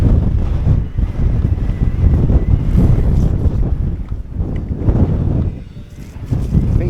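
A fierce wind roars and buffets against the microphone at Ogden Waters, with a loud, continuous blustery rumble in wet, muddy, windy conditions and no clear speech.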